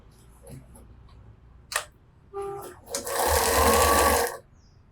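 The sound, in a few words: sewing machine stitching a French seam on a ruffle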